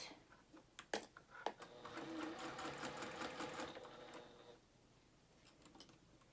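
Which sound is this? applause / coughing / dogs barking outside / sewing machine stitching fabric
sewing machine stitching fabric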